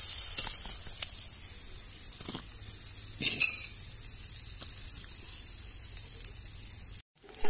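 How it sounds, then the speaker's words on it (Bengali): Bitter gourd pieces fry in hot oil as a steady, fairly soft sizzle, with a few utensil clinks and scrapes in the pan and one brighter clatter midway before the sound cuts off near the end. "এগুলোকে আমি প্রথমে তেল দিয়ে ভেজে নেব।"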